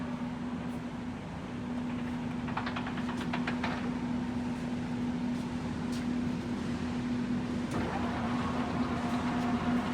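A TOS FO-6 gear hobbing machine runs at about 60 rpm, a steady mechanical hum with a sustained low drone, broken by faint scattered knocks and ticks throughout.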